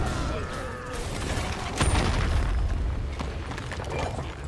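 A middle enemy tower collapses in SMITE, a deep booming crash that swells about halfway through over a dense bed of game effects and rumble, loud and close throughout.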